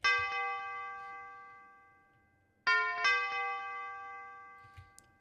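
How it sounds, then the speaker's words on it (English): A bell sample in a trap beat plays three ringing notes: one struck at the start and left to decay, then two more in quick succession that sustain and fade, all clear and alone. "And for me, that was definitely this bell,"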